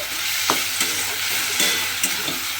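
Ash gourd with turmeric, sugar and green chilies being stirred in a hot pan, a loud close sizzle with repeated scraping strokes of a spatula.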